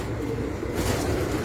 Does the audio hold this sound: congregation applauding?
no